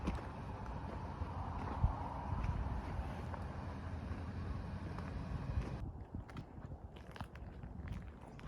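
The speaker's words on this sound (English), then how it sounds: "it's windy, just outside Big Bend National Park" Wind gusting steadily across a microphone outdoors just outside Big Bend National Park near the Rio Grande in West Texas, a constant loud rumbling buffet that drops off sharply near the end, with no talking.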